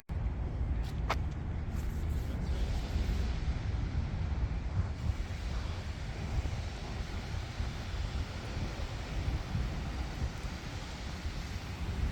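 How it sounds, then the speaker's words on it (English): Steady, loud wind roars and buffets continuously across an outdoor parking lot, a low broadband rush with no pauses. "It's pretty windy."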